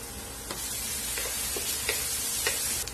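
Steady sizzling of garlic and green chili frying in hot oil, with occasional light clicks of stirring.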